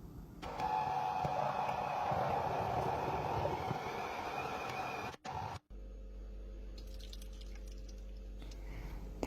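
An electric mixer blends kimchi paste, a steady mechanical whir that holds evenly for several seconds, cuts out briefly, then gives way to a lower, quieter hum.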